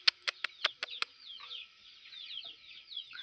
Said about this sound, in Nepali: हाम्रोमा चाहिँ यस्तो कुखुराहरू पनि छ